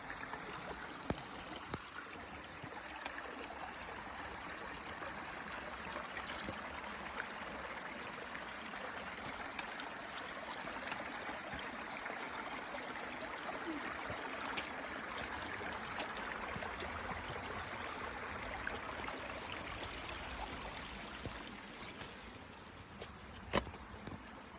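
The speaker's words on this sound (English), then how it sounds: "we finally found some more 7 miles later. Justice Creek." Justice Creek on the Appalachian Trail near Springer Mountain, a small stream trickling and babbling steadily over rocks, soft and continuous with no voices, a faint insect hum in the background.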